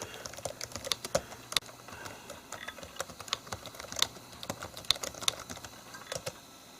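Keys clatter on a laptop keyboard at an amateur radio packet station, a quick irregular run of light clicks that is close and fairly quiet, with no voices.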